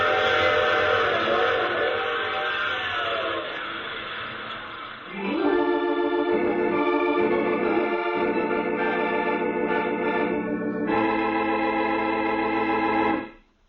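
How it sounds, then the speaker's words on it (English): A train in a radio drama sounds its whistle in long sustained blasts, with brief pauses between them and a final blast that cuts off sharply. Rumbling carriage noise runs underneath, and nobody speaks. "I take this same train every week at this same time."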